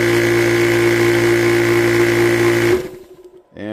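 A Yonghing high-pressure PCP air compressor runs with a loud, steady mechanical whine and hum, then shuts off abruptly, leaving a brief rattling wind-down and near silence.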